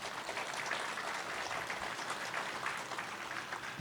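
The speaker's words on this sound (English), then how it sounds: "I want to give them again a round of applause" Audience at a Hmong American Day gathering gives a steady round of applause, dense and even throughout with no voices standing out.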